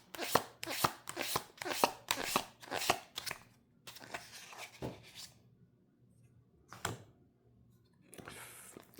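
Tarot cards being shuffled by hand: a run of crisp, close riffling bursts in quick rhythm, then a pause and a few more scattered shuffles, heard alone without talk.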